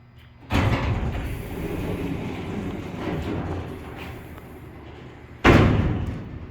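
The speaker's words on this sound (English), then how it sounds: "So I want to film these doors open." The doors of an Otis traction freight elevator in a former downtown Phoenix department store are opened: a heavy clattering slam, a long rumbling slide, then a second loud thud, close by in an echoing space.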